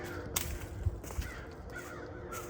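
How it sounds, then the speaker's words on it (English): Crows caw repeatedly at a distance in the woods at Hog's Back near Conneaut, Ohio, a few harsh calls spread over a steady low background rumble. "All I'm hearing around me, besides the train whistles, is crows."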